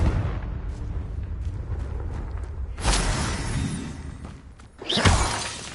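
A Confringo fire spell blast from the Hogwarts Legacy video game bursts out loudly as a sharp, crackling explosion, followed a moment later by a second, shorter burst over steady game ambience.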